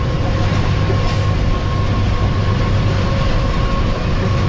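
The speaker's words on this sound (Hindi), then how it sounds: "तो अब ट्रेन अप्रोच बना रही है हमारी सलाह आलमगीर रेलवे स्टेशन पर।" A Subak Raftar railcar running from Lahore toward Rawalpindi approaches Sala Alamgir railway station with a loud, steady rolling rumble, engine drone and faint rail clatter, recorded up close.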